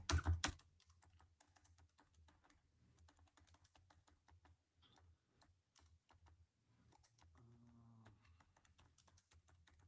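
Fast, continuous typing on a computer keyboard while coding solutions for an online programming contest, with dense, quiet, rapid keystrokes that run steadily after a brief louder burst at the start.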